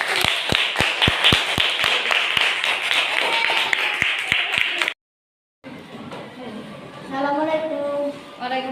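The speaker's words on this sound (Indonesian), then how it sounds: "Tepuk tangan dulu." A classroom of students clapping together at school, steady rhythmic claps at first, then a cut and children's voices talking after the applause ends.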